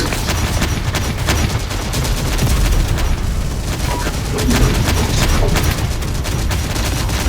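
Dense, continuous gunfire and explosions from the video game Terminator: Dark Fate - Defiance, a loud, unbroken barrage of rapid shots and booms throughout.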